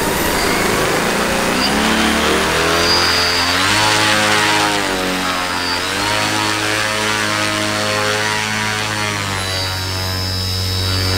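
The engine of a homemade ultralight airplane drones loud and steady as the craft taxis, with a continuous buzzing tone that rises and falls slightly in pitch throughout.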